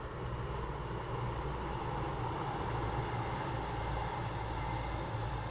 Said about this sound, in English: here comes a train across the bridge